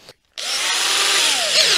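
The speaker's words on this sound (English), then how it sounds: "I'm going to drill right into the steel of this trowel." A power drill with a 3mm bit bores into the steel of a trowel in one short, steady, close whine after a brief start, its pitch dipping slightly near the end.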